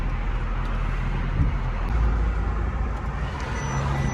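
Cars stream past on a busy road, heard from inside a waiting Mercedes C43 AMG as a steady, loud traffic rumble with low engine hum throughout.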